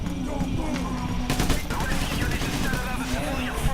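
Dense, continuous gunfire and rapid bursts from the video game PAYDAY fill the mix loudly and steadily, with overlapping shots throughout.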